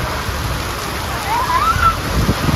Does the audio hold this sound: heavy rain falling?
yes